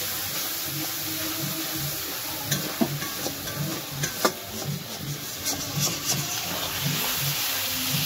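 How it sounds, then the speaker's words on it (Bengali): Spice paste for a crab curry fries in a pan while being stirred, giving quiet sizzling under a series of irregular scraping, rubbing strokes. "দিয়ে মশলাটা আবার ভালো করে একটু কষে নেবে"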